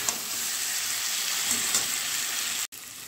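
Fried potatoes sizzle and hiss steadily while being sautéed in a pan with a hilsa fish head for a cabbage dish. The frying stays loud and even, then cuts out briefly near the end.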